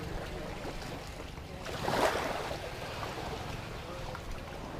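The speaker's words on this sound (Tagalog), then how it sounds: "Malakas yung hangin." Strong wind gusts rush over a mic by the sea in bad weather, with a louder blast midway over a steady background of waves and rumble.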